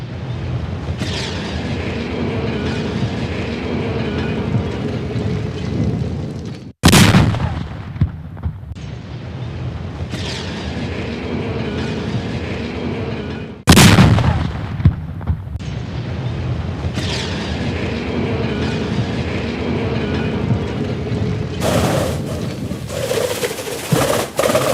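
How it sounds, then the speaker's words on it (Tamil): An 11-storey building in Moulivakkam is brought down by remote-controlled explosives, with sharp, heavy blasts at widely spaced intervals, each cutting through a loud, continuous roar of collapse and rumbling debris. "11 மாடி கட்டடம் ரிமோட் கண்ட்ரோல் மூலம் வெடிபொருட்கள் இயக்கப்பட்டு வெடிவைத்து"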